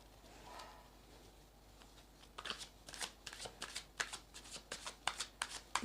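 A deck of playing cards being shuffled close up: quiet handling at first, then a quick run of crisp riffling flutters and slaps that grows busier toward the end, with no clear talking.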